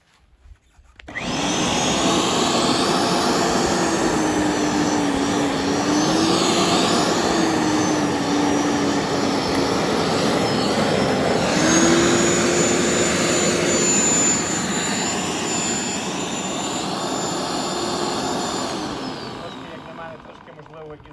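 A Parkside PLV 1500 B1 electric lawn aerator-scarifier works across a lawn, producing a loud, steady motor whir with a rushing, scraping tone. It starts abruptly, holds for about twenty seconds and then eases off slightly.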